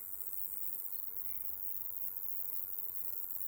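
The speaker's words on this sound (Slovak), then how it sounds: "A cez noc sa stiahnu do úľa tieto včielky, ale cez deň už nemajú čo robiť." Honeybees from strong colonies, bunched outside their hives, give a steady, faint buzzing drone that carries evenly throughout with no talking.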